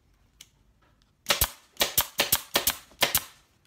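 Staple gun firing repeatedly, driving staples through cardboard into the underside of an upholstered bench seat, about eight sharp close snapping shots in quick irregular succession.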